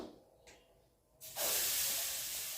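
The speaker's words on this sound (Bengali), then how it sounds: "চাটুতে সর্ষের তেল দেওয়া হলো" Mustard oil hits a hot griddle with a sudden loud sizzle that starts after a brief quiet, hiss-like spit, then holds as a steady, close, broadband frying hiss.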